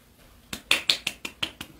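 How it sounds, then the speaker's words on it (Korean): A child claps hands in quick seal-style applause, six sharp close claps in a steady rhythm after a brief quiet start, with no talking. "물개 박수."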